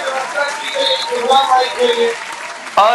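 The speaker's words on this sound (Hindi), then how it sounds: "एक बार इस व्यवस्था के लिए जोरदार तालियां बजाइए।" Audience applause at a late-night Hindi kavi sammelan comedy poetry recital, a steady wash of clapping running under a speaking voice for about three seconds before breaking off abruptly.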